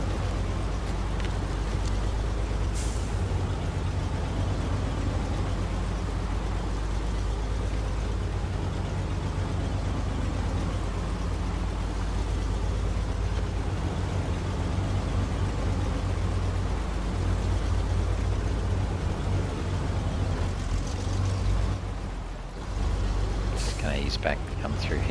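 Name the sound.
truck engine driving in SnowRunner video game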